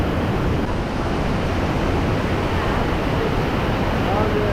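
Rapid river water rushing beside a salmon ladder near a bridge in Ketchikan, Alaska, a loud, constant roar of turbulent flow with no break.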